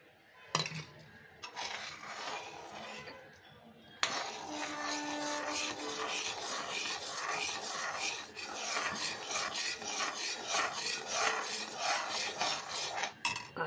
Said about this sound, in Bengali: আমি এক হাতে দিচ্ছি আর আরেক হাতে নাড়তে হয়